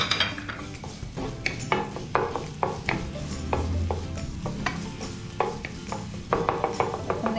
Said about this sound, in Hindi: उसमें 2 टेबल स्पून हम डालेंगे olive oil, just 2 table spoon, और फिर इसमें हम शामिल करेंगे ये चॉप्ड गार्लिक